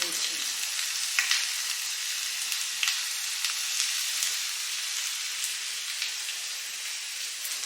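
Garlic and ginger frying in two spoons of hot coconut oil for chicken samosa filling, a steady close bright sizzle and crackle that continues throughout with occasional small pops.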